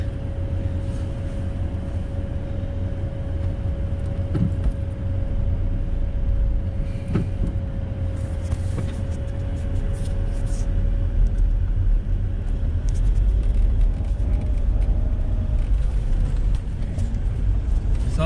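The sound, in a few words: cars passing on road traffic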